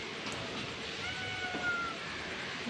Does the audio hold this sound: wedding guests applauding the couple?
no